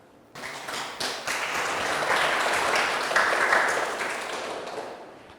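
Applause from a lecture audience, a dense steady wash of many hands clapping that swells for several seconds and then tapers off, with no talking.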